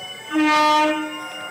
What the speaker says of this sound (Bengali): তারপর ট্রেনটা হুইসেল দিতে দিতে স্টেশনে ঢুকছিল।